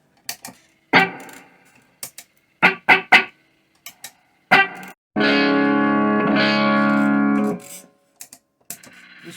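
Short bursts of distorted electric guitar through a 1980s Ampeg V3 combo amp's reverb, then a sustained, ringing chord that hangs for about two seconds before cutting off, followed by sparse plucks.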